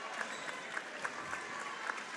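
Fairly faint applause follows a girls' state basketball third-place game, a soft crowd patter with a few sharper, evenly spaced claps standing out and light voices underneath.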